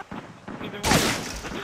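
Gunfire in the video game Modern Warfare 2: a burst of rapid shots followed by a loud, sustained blast of noise that rings out and slowly fades.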